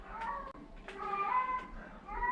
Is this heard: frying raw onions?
no